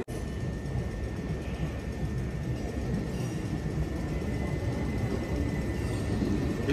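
A train rumbles steadily through Clapham Junction station in London, a loud, continuous low roar of rolling carriages with no voices over it.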